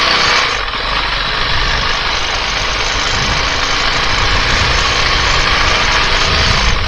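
A Honda CRF450RL dirt bike engine running steadily as it rides through a holler, a loud, continuous, close drone with no pauses and no talking.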